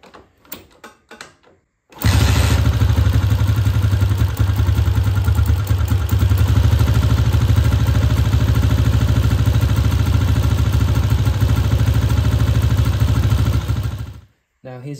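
Honda CG125 motorcycle engine, started on choke after a points and ignition timing adjustment, catches after a brief crank and then runs steadily and loudly for about twelve seconds with a busy mechanical clatter before stopping.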